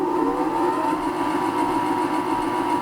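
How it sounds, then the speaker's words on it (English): A CNC mini lathe runs up to speed, giving a steady motor whine with a rising tonal hum that settles into a constant drone, close and without talk. "And we'll start our lathe up, and we'll see what it makes of it."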